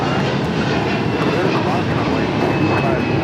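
An Air Canada A321 jet takes off from LAX bound for Toronto, its engines roaring loud, steady and broadband without a break.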